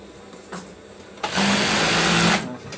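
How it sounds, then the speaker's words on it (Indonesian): A sewing machine stitches inner duvet fabric, with a brief whir and then a loud, steady mechanical run of about a second before it stops. "Dan selanjutnya dijahit."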